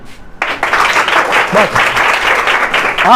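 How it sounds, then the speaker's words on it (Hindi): Students clapping together in a classroom during a geography lesson, a sudden burst of dense applause that starts abruptly and stays loud and steady, with a voice cutting in briefly. "ठोको ताली"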